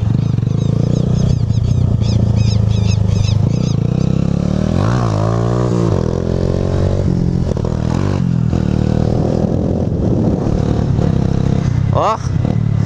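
A Honda Titan 150 motorcycle revs up for a wheelie, with a loud engine that rises and falls through rapid throttle bursts and sounds close the whole time, while someone talks over it.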